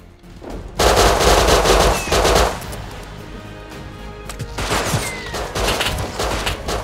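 Rapid automatic gunfire in the survival video game Rust rattles out in two loud sustained bursts, with quieter continuous shooting between them and no speech.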